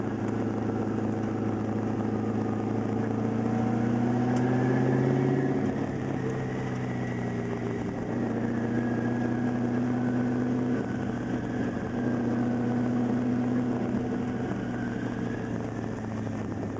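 A twin-turbo LS1 V8 in a Mazda RX-7 FD runs under load while driving, a constant low engine drone heard from inside the car with slowly shifting pitch, no talk.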